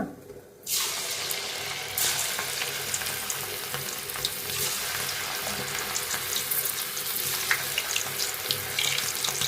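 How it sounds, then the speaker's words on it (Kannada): Bitter gourd pieces fry in hot oil for a crisp finish. After a brief quiet start, a loud, steady sizzling hiss begins and continues to the end with scattered crackles. "ಈಗ ಎಣ್ಣೆ ಚೆನ್ನಾಗಿ ಕಾದಿದೆ ತನಿಗ ಒಂದೊಂದಾಗಿ ಬಿಡುವ"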